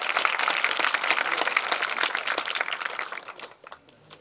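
Sustained applause from a lecture audience fills the room, then tapers off into a few scattered claps near the end.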